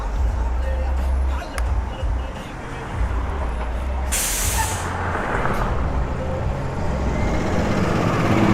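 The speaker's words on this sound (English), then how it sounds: "Seem to have a garbage truck holding things up." Busy city street in Toronto with a garbage truck idling and hissing its air brakes amid traffic rumble, one loud burst of brake air standing out midway, steady engine drone and distant babble throughout.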